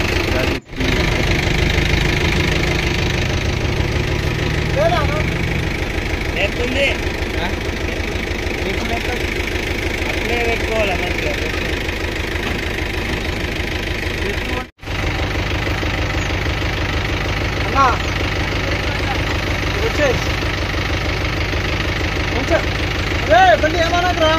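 A Mahindra 3DX tractor engine runs loud and close for a long stretch, a steady rumbling drone with two brief cuts, while people talk over it.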